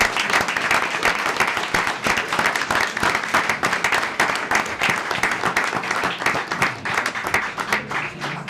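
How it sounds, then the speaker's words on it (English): Audience at a city council meeting breaks into a round of applause, sustained clapping with crisp individual claps standing out, moderately loud and continuous throughout. "let's give everybody a great round of applause"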